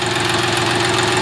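A John Deere 5105 40 HP tractor engine idling close by, a steady, loud diesel rumble with a fast even knocking beat throughout the short stretch, no voices over it.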